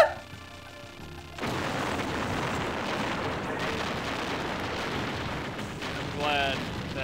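Dense, rapid shooting and explosive blasts from the arcade shoot-'em-up Giga Wing form a steady wall of crackling noise, with a voice talking over it.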